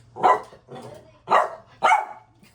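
A dog barks three loud, sharp times close by with short pauses in between, followed by a faint, softer yip at the end.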